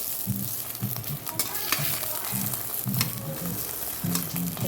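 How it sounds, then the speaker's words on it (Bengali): Beaten egg frying into an omelette in a pan, a steady close sizzle with rhythmic scraping and stirring strokes repeating throughout. "একটা ডিম বললাম ফাটা সেটাকে অমলেট করে নিচ্ছি দেখো"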